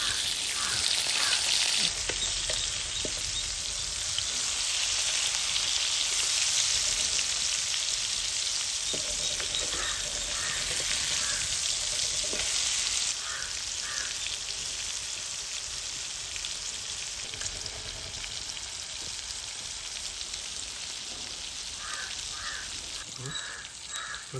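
Fish coated in masala fries in a hot pan with a steady, loud sizzle for about twenty-five seconds. A brief stir or flip clatters partway through, and crows caw faintly in the background.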